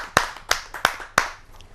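Clapping at a Hindi kavi sammelan poetry gathering: four sharp, evenly spaced claps ring out close and clear, each with a short decay, followed by a brief quiet tail and no talk.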